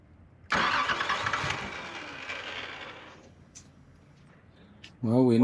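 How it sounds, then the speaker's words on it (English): Nissan 300ZX starter cranking the engine after its relay is jumped, an abrupt loud whirring burst lasting a few seconds that fades away, followed by a brief voice at the end. "we're just gonna try to jump the relay and see if the starter tries to crank at all"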